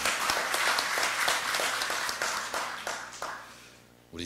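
Applause from an audience at a policy forum on welfare policy, a dense burst of many hands clapping that continues steadily for several seconds before thinning out near the end.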